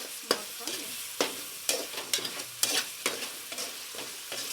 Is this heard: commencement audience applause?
no